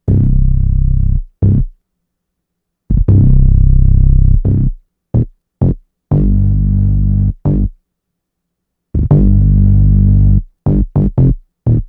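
A deep synthesized bass line plays short and held notes in an irregular, off-grid rhythm with gaps of silence between phrases.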